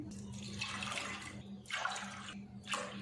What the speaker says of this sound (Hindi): तो अब इसमें पानी डालेंगे।